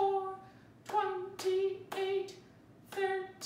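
Hands clapping along in a slow, steady beat, about five sharp claps over a sustained musical tone, fairly quiet and close.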